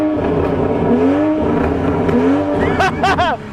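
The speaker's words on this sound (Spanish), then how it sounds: "Te podría grabar un acelerón" A Toyota car engine revs hard and accelerates close by, a loud rising and falling roar with sharp, quick blips of the throttle near the end.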